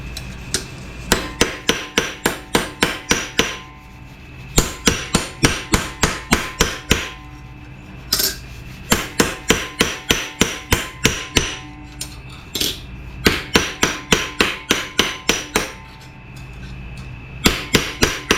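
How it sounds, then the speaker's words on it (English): A hammer repeatedly strikes a metal patch piece being shaped for a door, with rapid, sharp, loud blows in bursts of steady rhythm, pausing briefly between runs, with no voices. "I'm gonna go massage it with the hammer on the hammer."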